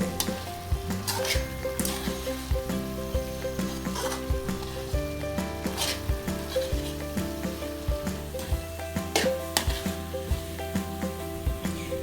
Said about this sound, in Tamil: பக்கத்திலேயே இருந்து இதை நல்லா கிண்டி விட்டுக்கிட்டே இருக்காங்க